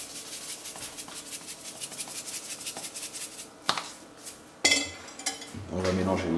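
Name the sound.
stirring veal blanquette ingredients in a pot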